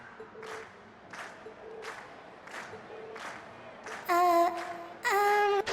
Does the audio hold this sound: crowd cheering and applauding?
yes